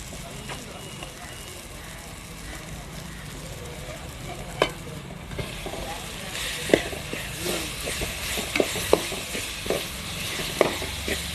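Ginger garlic paste frying with tomato for a snail curry sizzles steadily in the pan, growing louder in the second half, with frequent sharp scrapes and taps from stirring against the metal.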